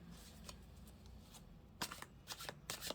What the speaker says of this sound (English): I've got my little deck for clarifying, so just give that a fresh shuffle a minute